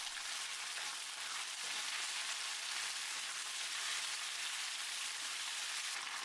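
Chicken with celery, roasted almonds and oyster sauce stir-fries in a hot pan, giving a steady, fairly quiet hiss and sizzle that continues without talk.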